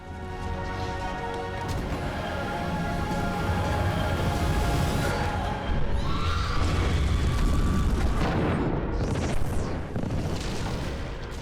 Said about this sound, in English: A standout moment for me was the finale with the exploding spaceship and Catherine Tate just managing to be saved